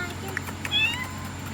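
A couple of short, high cat meows rise over a steady low hum, close by and moderately loud.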